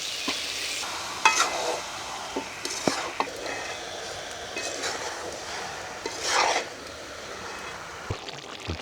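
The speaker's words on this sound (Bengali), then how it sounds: "মুরগির মাংস কেটে ধুয়ে পরিষ্কার করে নেওয়া হয়েছে রান্না করার জন্য এখন মশলায় কষিয়ে নেওয়া হচ্ছে" Chicken pieces being fried and stirred with spices in a pan, with steady sizzling and a few sharp scrapes of a utensil, close and alone.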